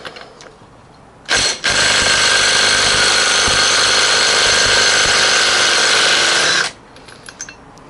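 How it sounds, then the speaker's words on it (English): A power tool whirs loudly and continuously for about five seconds while a nut comes off a Honda XR600R motorcycle engine, starting abruptly after a brief blip and stopping cleanly, with quiet background before and after. "let's just remove this nut and have a good look behind it"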